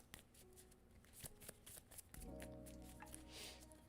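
A deck of cards is shuffled close by in quiet, brief riffles and soft rustles, with a low hum in the background and no one talking.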